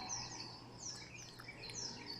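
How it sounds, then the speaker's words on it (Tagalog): Several birds chirp and tweet in quick, overlapping calls against a soft hum, fairly faint and distant, at about 5 a.m. before dawn in Iligan. "Ang ganda na pakinggan yung mga ibon."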